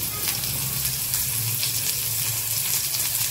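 Sliced onion fries in hot oil for a chicken curry, giving a loud, steady, close sizzle with a constant bright hiss and no pause throughout. No one speaks over it.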